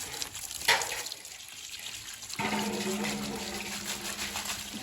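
Shrimp and fish are washed in water: a quick splash comes first, then a steady rush of sloshing, running water that continues to the end.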